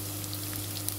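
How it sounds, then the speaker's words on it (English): Garlic hitting hot oil in a pan while cooking traditional omena silver fish with groundnut and simsim paste, giving a steady, close, continuous sizzle with no talking. "at this point is where I add my garlic in"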